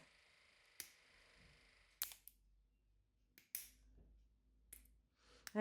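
Nail clippers snipping through acrylic nail extensions, a handful of sharp isolated snaps spaced a second or so apart, close and crisp against a quiet room.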